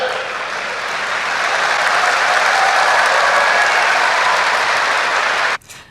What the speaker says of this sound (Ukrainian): Чому аплодисменти?